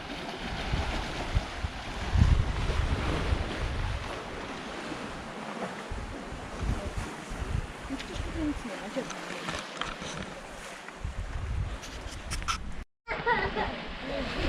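Strong wind buffets the microphone while open Adriatic sea waves wash and surge below rocky beaches on Croatia's Pelješac peninsula, a constant roar; voices speak briefly, and the sound cuts out for a moment near the end.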